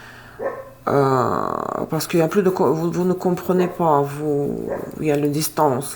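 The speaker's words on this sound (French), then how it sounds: "désolé pour le chien, si ça s'entend" A dog barks in the background, partly buried under continuous close-up speech that runs through most of the stretch.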